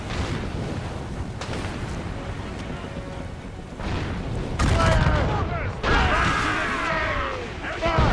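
Ship cannons boom in the Assassin's Creed Rogue video game during a naval battle, with heavy blasts, crashing debris and rumbling explosions layered over a dense, loud game soundscape.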